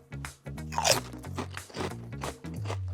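Loud, close crunching of crisp vegetable chips being bitten and chewed, several crackly bites in a row with no talking.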